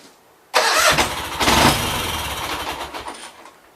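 A Gravely 8199 tractor engine with a carburettor problem cranks and catches suddenly, bursts loudly into a rough, surging run, then settles into a fading, uneven idle, close by with no talk.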